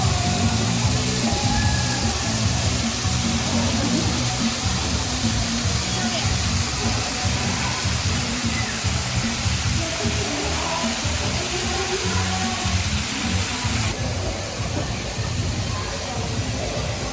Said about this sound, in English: Waterfall and stream.